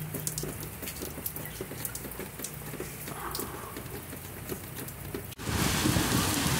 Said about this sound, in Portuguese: Muita chuva nesse momento.